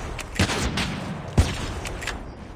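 Sniper rifle shots in a video game ring out as two sharp, echoing cracks about a second apart, with lighter crackles of distant gunfire between them.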